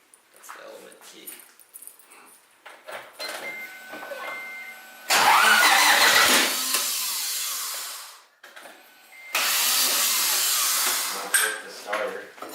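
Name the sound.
car engine cranking with starter motor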